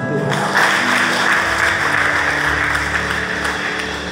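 A church congregation applauds at a sermon, a steady wash of clapping that holds fairly loud throughout, with a low sustained musical tone underneath.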